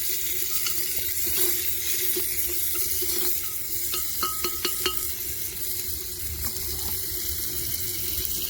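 Tomato is stirred into browned onion in a clay pot and fries with a steady close sizzle. Light taps and scrapes of a spoon come through, and a watery hiss runs underneath.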